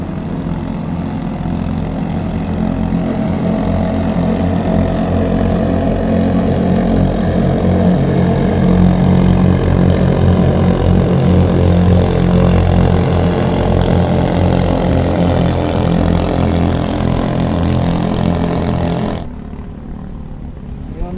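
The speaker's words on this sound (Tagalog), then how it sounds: "karera na yung mga bangka oh" Loud, steady roar of motorboat engines racing past, droning continuously before cutting off abruptly near the end.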